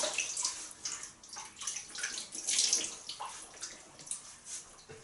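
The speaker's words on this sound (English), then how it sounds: "So I'm going to wet my face with hot water" Hot water runs from a tap while a man wets his face before a wet shave, a steady broadband rush with splashy bursts and gurgles of varying loudness.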